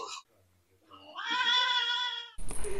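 A cat gives one drawn-out, whining meow lasting about a second, close and clear, with a brief voice before it and a sharp noise after.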